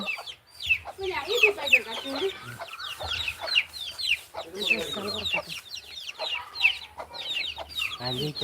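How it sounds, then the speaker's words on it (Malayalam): Native hens at a home clucking in bursts, several birds near and busy, with short rising calls scattered across the stretch and no talk. "വീട്ടിൽ കോഴി ഉണ്ടോന്ന് കാലിത് ഉണ്ട് നാടൻ കോഴിയുണ്ട്"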